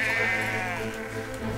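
Sheep bleat in the video game Valiant Hearts, a close, loud, drawn-out wavering cry that fills the short moment on its own with a faint ambient bed behind it.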